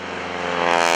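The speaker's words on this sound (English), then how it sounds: "there's that lovely rapping sound of the propeller" Stearman biplane in an aerobatic display, its propeller giving a loud, steady rapping drone that swells and grows louder through the second, with no voices.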